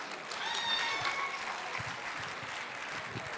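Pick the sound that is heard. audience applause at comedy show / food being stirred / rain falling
audience applause at comedy show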